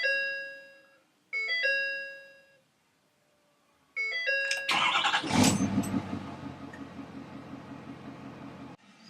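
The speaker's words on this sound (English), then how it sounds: "And you'll hear the fuel pump going." A 2015 Ford F-350 with a 6.7 engine chimes its dashboard bells twice, then the fuel pump primes with a loud whirring buzz that gradually fades over several seconds.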